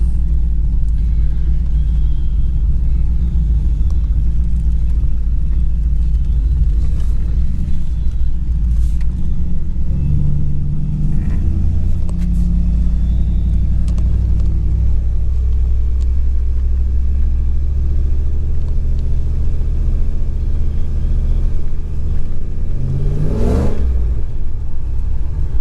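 A lowered Ford Ranger with a V8 swap and a 2.5 inch dual exhaust idles with a deep, loud rumble, rising in a few revs before a sharp throttle blip near the end.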